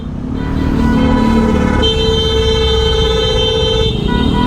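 A loud, steady Honda CB650R motorcycle horn blares continuously for several seconds, shifting pitch midway, close and strong over engine noise.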